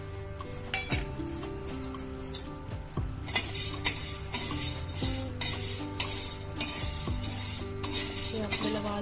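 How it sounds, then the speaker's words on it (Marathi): Val beans dry-roasting in a pan while being stirred, with a steady run of metallic clinks and scrapes from the spoon against the pan under continuous background music. "आपल्याला वाल चांगले भाजून घ्यायचे आहे।"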